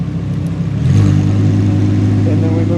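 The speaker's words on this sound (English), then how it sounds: "And then we rev. Ooh, sounds good, even in sport." A Lamborghini Huracan Performante's engine revs up in sport mode, jumping from a low idle into a loud, steady droning roar up close.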